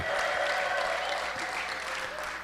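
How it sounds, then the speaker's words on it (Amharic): Dense, steady applause and ululation from a church congregation, fairly loud and continuous, with a bright high edge from the ululation, slowly fading at the end. "በደንብ እስኪ እልል ማለት የምትችሉ እልልታና ጭብጨባ"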